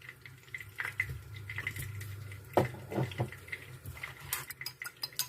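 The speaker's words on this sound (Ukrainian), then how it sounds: "Добре змішуємо їх отак." Two eggs with a pinch of salt being mixed in a bowl, with soft repeated clinks and scrapes of a utensil against the bowl and a sharper knock partway through, moderately close with no talking.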